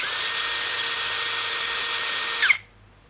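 A cordless 16-volt power drill spinning at top speed, a loud, steady high-pitched whine held for about two and a half seconds before cutting off abruptly into near silence.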